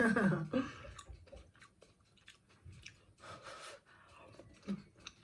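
Someone chews crispy fried garlic from a vegan ginger mushroom stir-fry, with soft crunching bites and breathing heard close to the mic, fairly quiet, with no talk.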